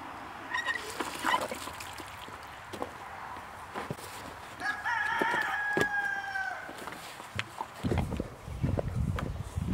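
Icelandic chickens cluck and shuffle close by in a pen, and a rooster gives one clear crow partway through, with scattered footsteps and rustling around it.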